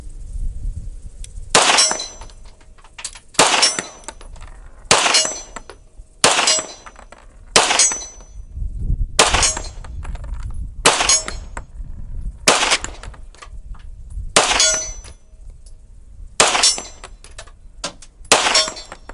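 A 30 Super Carry Nighthawk Custom President pistol fires repeatedly at a B-zone steel target 50 yards off: about a dozen sharp, loud shots, each with a short reverberating tail, spaced unevenly a second or two apart.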